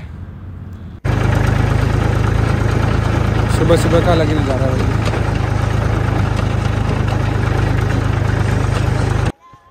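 A tractor engine runs at a steady, loud idle-like drone, continuous and close, while someone speaks briefly over it before the engine noise cuts off.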